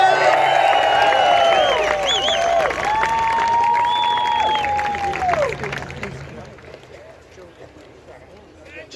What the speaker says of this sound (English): Give up a big round of applause for Rod Caddies.